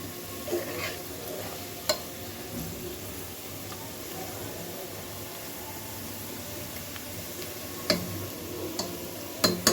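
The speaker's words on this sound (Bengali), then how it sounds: "পেঁয়াজটা ভালো করে একটু ভাইজা নিতে হবে" Onions sizzle quietly in a pan, a soft steady frying hiss with a few faint clicks and taps of a utensil.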